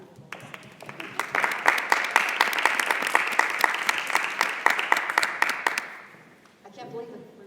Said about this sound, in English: I feel like we should clap for you, Melissa.